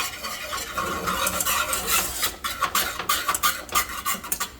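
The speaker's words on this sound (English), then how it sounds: "Give them a good stir, don't just play with them." A spoon scrapes and stirs thickening cheese grits in a pot, giving irregular close scraping strokes that come and go in bursts, with no talking.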